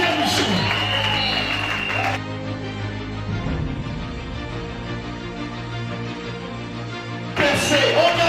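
Church congregation applauding and cheering in loud bursts at the start and end, with sustained musical tones and voices carrying through the quieter middle stretch.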